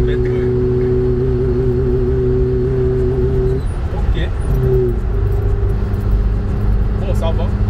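Cabin of a Chinese car cruising at 60 km/h, with a steady engine and road drone interrupted by a brief shift in tone midway while occupants chat over the noise.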